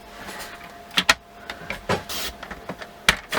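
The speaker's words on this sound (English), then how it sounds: "Now, this one I'm going to have to cut a 1/4 inch off once more." Card stock being trimmed for a Lily Impression fold-back card: a few brief, crisp cutting swipes and scrapes, close and fairly quiet, with short pauses between strokes.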